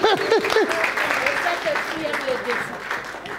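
A church congregation bursts into steady, loud applause and cheering to acclaim the Lord, with a voice speaking over the crowd noise throughout.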